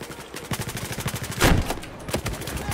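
Rapid automatic gunfire from a multiplayer shooter match, a steady stream of close shots with one heavier, louder burst near the middle; no voices speaking.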